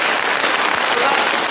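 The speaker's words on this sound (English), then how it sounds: "This is the way you clap your whole life." Large symposium audience clapping their hands in unison, a dense, loud, continuous patter of many claps with no pause throughout.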